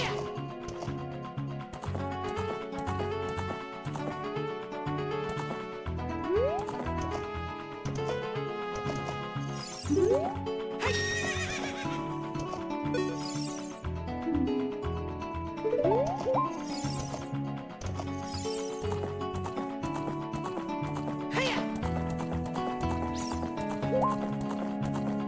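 A horse in Zelda: Ocarina of Time gallops with steady clip-clop hoofbeats over constant game music, with several short neighs and whinnies cutting through at intervals.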